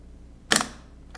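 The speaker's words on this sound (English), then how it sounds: "you push the shutter button down, and that releases all of the springs that are inside of the camera" A KMZ Zenit-C SLR camera's shutter release fires once with a crisp, close mechanical snap, followed by a short spring-driven rattle in an otherwise quiet setting.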